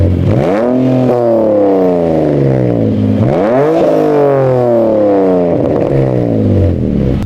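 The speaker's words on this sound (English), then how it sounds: "this full system using Gravity Performance headers, Gravity Performance sports cats, and a full custom catback system" A BMW E46 with Gravity Performance headers, sports cats and a full custom catback exhaust revs hard in three sharp rising sweeps, each falling back before the next. It is loud and close, with no talking.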